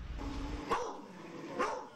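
A dog at a home gives two short, sharp barks about a second apart, moderately close over a low background hum.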